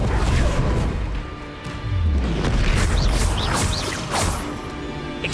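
Spells are cast in rapid succession during combat in Hogwarts Legacy on Switch, including the Incendio fire spell, heard as booming blasts, crashes and whooshing bursts layered over continuous battle noise.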